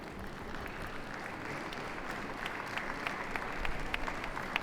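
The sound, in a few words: audience clapping at a dog show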